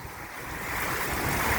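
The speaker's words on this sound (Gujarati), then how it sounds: "વરસાદ હવે થોડોક પાછો વધ્યો" Rain and gusting wind during an unseasonal storm in Vadod village near Jasdan make a steady, broad rushing hiss that swells slightly over a couple of seconds.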